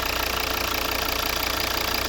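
A 2012 Volvo V60 R-Design with the 2.0 D3 five-cylinder diesel and automatic gearbox idles under the open bonnet, a steady close-up engine hum with even rapid clatter throughout and no talking.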